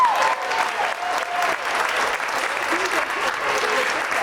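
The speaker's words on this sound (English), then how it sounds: "that's worth a round of applause in and of itself." Wedding guests give a round of applause, a dense, steady clapping that fills the room for several seconds, with some voices mixed into the crowd noise.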